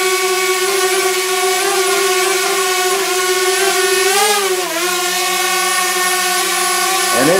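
A DJI Spark small drone flies close by with a loud, steady buzzing whine whose pitch dips briefly midway and then settles again.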